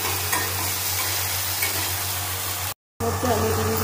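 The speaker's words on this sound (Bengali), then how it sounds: "আমি অল্প জল দিয়ে মশলাটাকে ভালো রকম কষিয়ে নেব।" Spice paste for egg curry fries in a pan with a splash of water, giving a steady, close sizzle with stirring scrapes, briefly cut to silence before the frying resumes.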